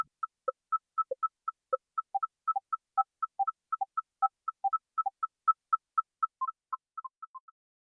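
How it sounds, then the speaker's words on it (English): Synthesized tones from a Desmos graphing-calculator tune, with a steady pulse of short, beeping notes layered against a second, differently spaced line of lower beeps, evenly clipped and fairly quiet, ending in a few tapering notes. "You can listen to how two types of notes, like half notes and half note triplets,"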